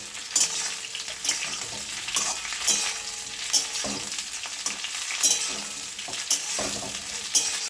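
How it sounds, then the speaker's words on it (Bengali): Cauliflower and nigella seeds sizzle in hot oil in a pan for a cauliflower posto dish, with steady frying hiss and repeated scraping stirs of a spatula at a regular rhythm, close and alone. "ফুলকপির সঙ্গে কালো জিরেটা একটু ভেজে নেব।"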